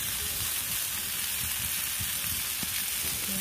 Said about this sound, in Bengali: আদা জিরা মশলাটা দিলাম, দিয়ে জিরা মশলাটা দিয়ে সামান্য পরিমাণে মাখামাখি করে দিয়ে